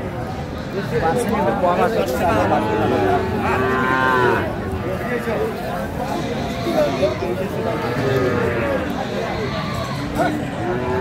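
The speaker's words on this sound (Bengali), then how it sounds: "ষাঁড় বাচ্চা আমরা দেখছিলাম।" Sahiwal bull calves mooing at a cattle market in Naogaon, with several drawn-out, fairly close lows over constant crowd chatter and people talking.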